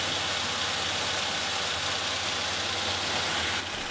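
A car engine with a Gen4 EFI system idles steadily and close by, a continuous low rumble with even, unchanging loudness that drops slightly at the very end.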